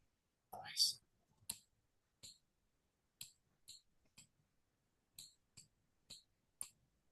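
Mouse buttons clicking while drawing in a paint program, a series of sharp, close, fairly soft clicks in irregular bursts, with a brief breathy vocal sound near the start.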